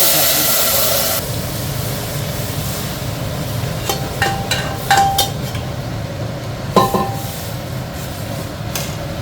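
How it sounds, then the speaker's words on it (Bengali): Tempering for a sour dal made with green mango: a loud initial sizzle-hiss dies down, then a pot is stirred with scattered metallic clinks and scrapes over a soft simmering hiss. "এইবার আমি ডালটাকে ফোড়ন দেবো এবার নেড়ে নেবে"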